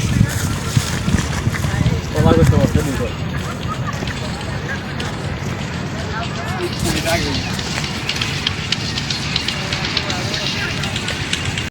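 A motorized trawler carrying a car across the Jamuna River rumbles with a heavy, droning engine steadily throughout, with wind noise and people talking over it.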